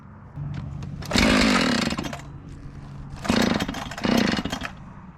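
A 576 chainsaw engine sputters into life after a pull, revving loudly in two strong bursts with a rough idle between, close by in a workshop.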